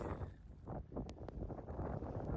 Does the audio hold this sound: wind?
yes